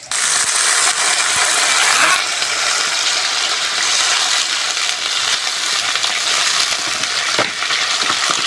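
Water rushing into a hot pan of fried potatoes and teasel gourd, a loud continuous hiss and gush of sizzling that stays strong and steady, with a few clinks and stirs along the way.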